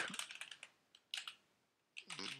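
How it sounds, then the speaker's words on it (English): Bursts of quick keystrokes on a computer keyboard, close and clear, in three short clusters separated by pauses. "I am typing the variable name as access token"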